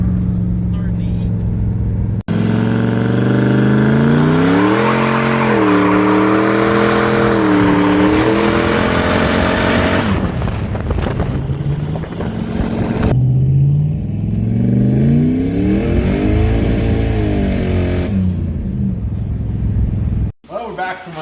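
Turbocharged LS-swapped Pontiac revving hard during burnouts with the boost turned up, the engine rising and falling in long loud pulls with tire noise, someone talking over much of it.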